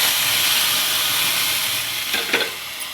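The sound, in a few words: tempering with curry leaves frying in oil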